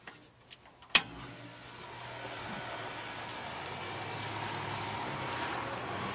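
An air conditioning compressor starts after its breaker is flipped: a sharp click, then a steady hum that swells and holds at a moderate level to the end.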